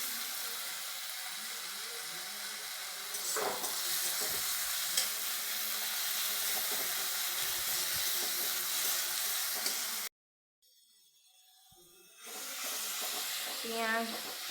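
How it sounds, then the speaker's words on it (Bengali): Ginger and chili sizzle in a frying pan with steady hiss and occasional stirring scrapes, broken by a brief near-silent gap before the frying resumes, with a faint voice at the end. "লঙ্কা একটু ভেজে নিচ্ছি"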